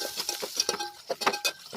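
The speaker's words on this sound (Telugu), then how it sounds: "బిర్యానీ ఆకు, సాజీరా, అనాస పువ్వు, యాలకులు, దాల్చిన చెక్క, టేస్టింగ్ సాల్ట్ వేసి ఈ విధంగా ఫ్రై చేయండి." Whole spices (bay leaf, shahjeera, star anise, cardamom and cinnamon) fry in oil in a pan for paneer biryani, heard as quiet, close stirring clinks and soft scraping taps in an irregular rhythm.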